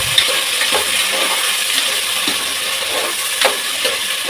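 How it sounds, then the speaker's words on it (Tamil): Onions sautéing in a pan for tomato rice, a close, loud, continuous frying hiss broken by a few sharp clinks of a spoon against the pan. "வெங்காயத்தை நல்லா வதக்கணும்"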